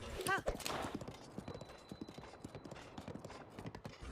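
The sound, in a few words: horse hooves clip-clopping in video game Breath of the Wild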